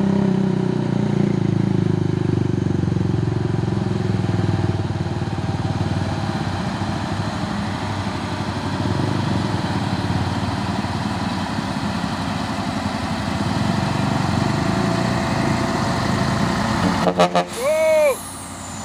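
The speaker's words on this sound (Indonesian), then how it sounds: "Truk Fuso Losbak menggunakan jalur kanan ini ya, karena jalur kanan lebih rendah daripada jalur kiri." A Fuso Losbak truck labours uphill in the right lane, its engine a steady low drone close by, with a brief clattering burst and a short rising whine near the end.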